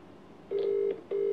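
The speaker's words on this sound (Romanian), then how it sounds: "Ia să-l sun pe Constantin" A telephone call is dialed, two short steady electronic tones sounding in quick succession over a quiet background.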